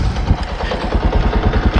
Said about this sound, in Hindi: लेकिन जैसे आप बाइक का इंजन स्टार्ट करोगे